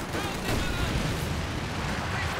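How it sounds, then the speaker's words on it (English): A dense, roaring incendiary artillery barrage in Company of Heroes 2, a continuous wash of blasts and crackling fire filling the whole stretch, with commentary faintly underneath. "double incendiary barrage is coming in"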